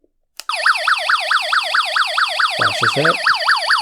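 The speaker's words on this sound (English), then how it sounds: "This is probably about a 90 decibel siren." Piercing alarm siren from an Accinouter HY-018WB emergency weather radio with a small two-inch speaker, a loud rapidly warbling wail that starts abruptly after a click and holds steady, with a brief voice cutting in over it.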